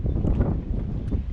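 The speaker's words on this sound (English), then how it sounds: "I hesitate at stepping out any farther because it is like super windy" Strong wind buffets the microphone on a sailboat voyage from Ventura to Dana Point, a continuous rough low roar with gusty swells and no clear pauses.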